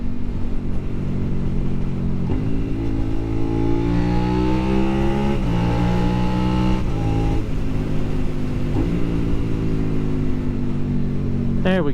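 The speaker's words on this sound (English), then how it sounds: "there's a car coming." A car engine drones steadily and loud on a winding mountain highway, its pitch rising and falling through gear changes as another car is overtaken, with faint talk underneath.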